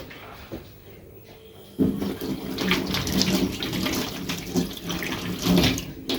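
Hands are washed under a running kitchen tap, a steady close splash of water that starts abruptly and keeps going.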